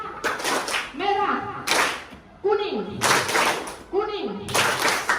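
Groups of schoolchildren and a teacher clapping out the tepuk konsentrasi pattern game in a classroom, with sharp clustered bursts of claps separated by pauses and voices speaking between them.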